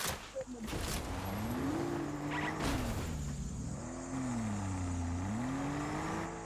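A car in a battle royale video game drives off, its engine revving up and whirring with rising and falling pitch as it pulls away, under continuous talk from players.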